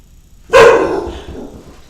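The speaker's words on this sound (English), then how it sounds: "Even my dog barked about that one." A single loud, close dog bark bursts out of quiet and trails off over a second, heard alone during a sports trading card break.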